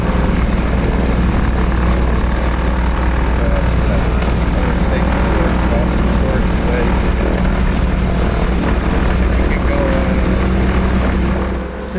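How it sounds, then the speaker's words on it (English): Steady twin propeller engine drone of a Piper Seneca taxiing at low idle, about 800 RPM per engine, continuous and fairly loud throughout, with a constant low rumble and faint background chatter. "we were able to taxi without adding too much power, at about 800 RPM on each engine."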